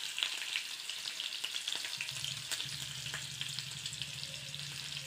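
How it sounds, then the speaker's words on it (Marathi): Cumin seeds, green chilli and asafoetida sizzle steadily in hot oil, a continuous bright crackle with occasional sharper pops, close and alone with no voices. "फोडणीत जिरं टाकूया, तेल तापलं आहे, जिरं, मिरची हिरवी आणि हिंग"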